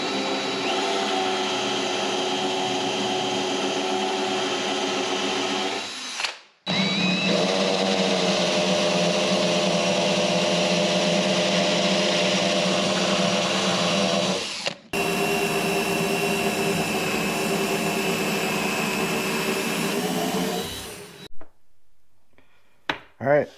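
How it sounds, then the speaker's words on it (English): A power drill whines steadily through three long bursts, boring 20mm holes in wood, stopping briefly between them, loud and close, ending with a few short spurts. "I'm going to drill all these out now to 20mm holes."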